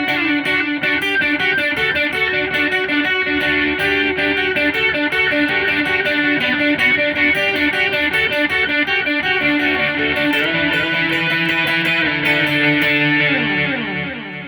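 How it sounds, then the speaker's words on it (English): Electric guitar running through the digital delay of a Mooer PE-100 multi-effects pedal, a continuous phrase of notes and chords with crisp, exact repeats layering over each other, loud and upfront, fading slightly at the very end. "Here's digital."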